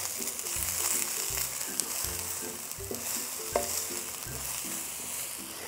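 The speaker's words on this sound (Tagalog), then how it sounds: "Igisa na natin yung sibuyas." Onion sautéing in hot oil in a heated pan, a continuous crackling sizzle over a rhythmic series of low scraping strokes as it is stirred, with no talking.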